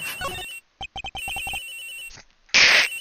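Electronic telephone ringtone in the Ace Attorney Investigations video game, sounding in short repeated bursts with brief gaps, followed by a louder hissing burst near the end.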